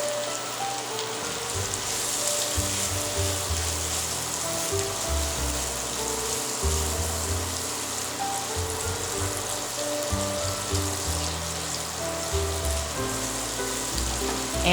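Half a white onion sizzling in olive oil in a pan, a steady close crackle and hiss running throughout with no talk.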